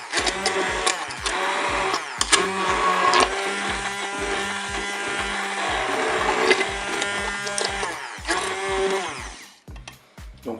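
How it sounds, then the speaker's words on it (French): A hand blender whirs steadily for several seconds, mixing cooked potatoes into a cheesy purée in a Cookeo pot, a loud buzzing motor with scraping variations before it cuts off near the end. "Je vais maintenant mixer mes pommes de terre."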